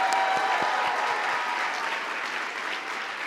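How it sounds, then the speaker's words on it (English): An audience at a school district showcase applauding its marching band, dense sustained clapping that starts loud and tapers slightly toward the end. "Please join me in giving our marching band one more round of applause."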